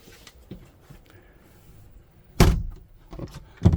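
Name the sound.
motorhome bathroom door closing, Wingamm Oasi 610M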